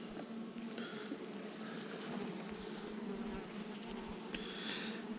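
Honeybees in an open beehive in March give a continuous close buzzing drone, a steady dense hum with individual bees passing near, no talk.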